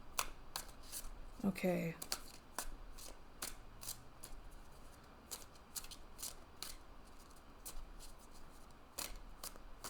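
Tarot cards shuffled by hand in a quiet room, a steady run of soft, crisp riffling and flicking strokes repeating throughout, with a brief spoken word near the start.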